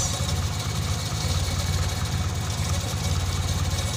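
A car engine keeps idling after its battery is disconnected while the alternator charging is tested, giving a close, steady low rumble with a rapid regular pulsing and slight knocking vibration, with no voices.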